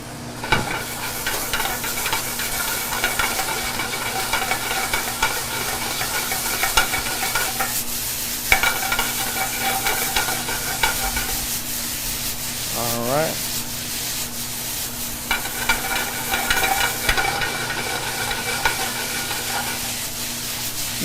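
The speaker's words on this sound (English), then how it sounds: "You just want to keep stir frying it just to break down the noodles and cook it a little bit more." Pancit noodles sizzle and scrape in a hot pan as they are stir-fried continuously, with steady frying hiss and occasional clanks of a utensil.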